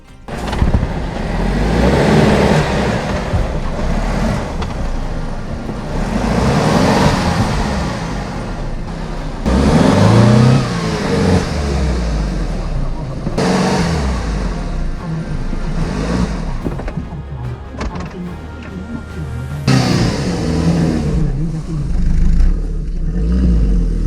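A small Suzuki Ignis 4x4 engine revs hard on a mountain track, loud and close, swelling and easing in repeated surges with rough mechanical rattles mixed in.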